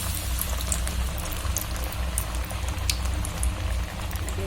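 Small rava fritters fry in hot oil, a steady, close bubbling sizzle with crackling pops throughout.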